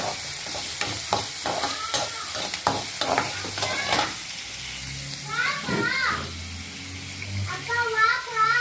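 Onion and tomato sauté in a pan for red amaranth stem kootu, with a soft sizzle and repeated scraping stirs up close while voices, including a child's, talk over it.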